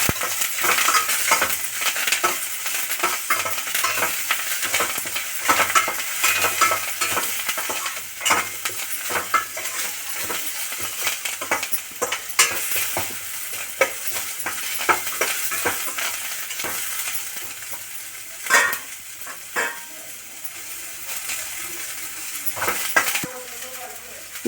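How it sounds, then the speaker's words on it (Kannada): Coriander leaves frying in a pan and being stirred, with a steady sizzle broken by repeated scraping clicks of a spoon against the metal. "ಈ ಸ್ವಲ್ಪ ಕೊತ್ತಂಬರಿ ಸೊಪ್ಪನ್ನು ಹಾಕ್ಕೊಂಡು ಫ್ರೈ ಮಾಡ್ಕೋಬೇಕು"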